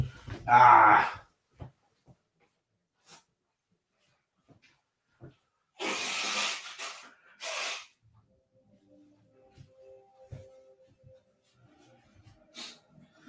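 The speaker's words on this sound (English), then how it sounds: "I am actually going to blow my nose" A person blows their nose off to one side in a couple of loud, breathy honking bursts, the first near the start and a longer pair a few seconds later, with quiet shuffling between.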